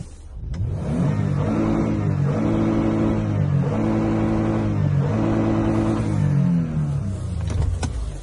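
A 2014 Toyota Sienna minivan with a 3.5 L petrol engine revs up and settles about four times in a steady rhythm, heard clearly from close range with no talking.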